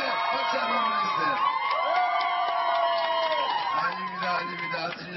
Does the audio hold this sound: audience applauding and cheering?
yes